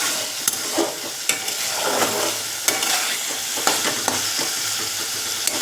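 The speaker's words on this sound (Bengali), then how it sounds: "তো আমার আলুটা ভালো করে কষানো হয়ে গেছে, এর মধ্যে থেকে তেলটা ছেড়ে দিয়েছে।" Potatoes sizzle steadily in released oil in a pan while being stirred, with repeated light scraping clicks over a continuous frying hiss and no speech.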